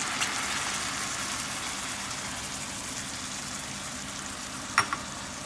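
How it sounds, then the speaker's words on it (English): Masala fries with slightly browned onions in a pan, producing a low, continuous sizzle close by, with a soft stirring clatter near the end and no speech. "once the onions are cooked a bit, we will then add this masala into it"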